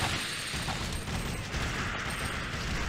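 Rapid machine gun fire from the video game Alien Shooter 2, a dense, continuous burst of gunfire with mechanical clatter running steadily for the whole stretch, loud and unbroken.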